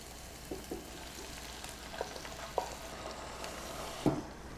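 Spinach cooking in a pan gives a low, steady sizzle with a few faint taps and stirring clicks scattered through it, quiet and close, with no talking.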